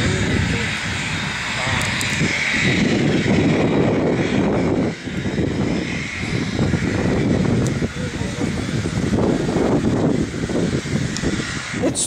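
The engines of a Ford Trimotor airplane produce a dense, loud, continuous roar near Naples, while voices talk over the drone throughout.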